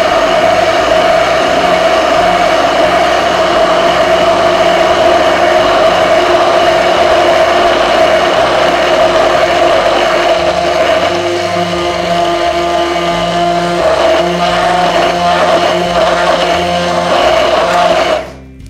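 An immersion blender whips homemade mayonnaise, its impeller drawing in freshly poured oil, giving a loud, steady motor whine that holds for almost the whole stretch before cutting off abruptly at the very end; nobody speaks.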